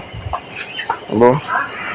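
A black hen clucks in a few short, throaty bursts, loudest near the middle, over a quiet farmyard background.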